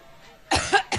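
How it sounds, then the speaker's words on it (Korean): A woman coughs at a public appearance: a quick run of harsh, close coughs that starts halfway through after a quiet moment, with one more burst at the end. "현장에서도 2분 동안 기침이 멈추지 않아서 건강에 문제가 있을 것이라는 의혹이 제기됐는데요."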